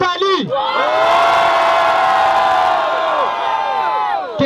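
A crowd at a rap battle in Guarulhos, São Paulo, roaring, cheering and whooping for an MC's verse, loud and sustained after an opening shout.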